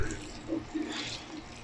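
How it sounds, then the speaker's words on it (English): Water is poured gently onto dry seed starting pellets, a soft steady trickle and splash heard up close, fairly quiet, with no talking. "So what we're going to do is we're going to water this."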